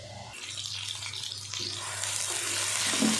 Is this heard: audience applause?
no